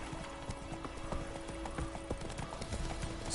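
Roach, a horse in the Witcher 3 video game, galloping, with rapid rhythmic hoof clip-clops over a steady game background hum.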